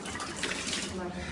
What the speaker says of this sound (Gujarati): આ નળમાં પાણી આવે છે ને એમાં ભર દે આખું ભરી દો